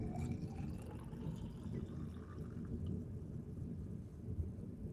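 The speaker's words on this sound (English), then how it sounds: "I'm in the middle of a thunderstorm." Thunder rolls in a low, sustained rumble during a thunderstorm, steady and moderately distant, with faint rain underneath and no voices.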